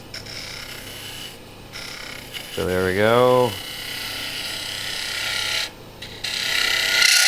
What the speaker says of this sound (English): I'm going to use a parting tool to clean that up